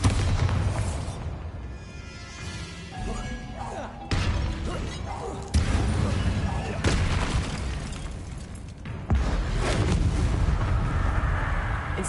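Explosive spell blasts from combat in Hogwarts Legacy, several loud booming bursts that break across the clip amid crackling fire and battle effects, with no talking over them.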